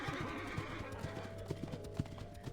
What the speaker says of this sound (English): Their servants and horses divide the forest into chaotic, noisy sections.